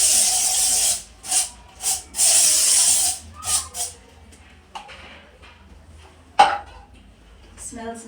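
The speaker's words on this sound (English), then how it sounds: "After cleaning the bathroom, I like to spray." Several short, loud hissing sprays in a bathroom after cleaning, a quick run of bursts followed by quieter handling noises and one sharp clatter.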